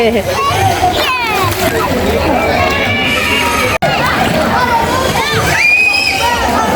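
Children splashing and diving in a swimming pool, with constant sloshing water, thrashing splashes and excited shouts over a busy crowd, loud and close while people talk throughout.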